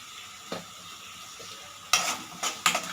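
Turmeric and asafoetida stirred in a frying pan for lemon rice, with a faint steady sizzle and a few sharp scrapes and clinks of a spoon against the pan, the loudest near the end, no voices.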